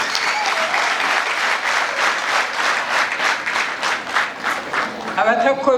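A crowd at a Rwandan gathering honouring the army gives sustained, steady applause, with a voice briefly rising over the clapping near the end.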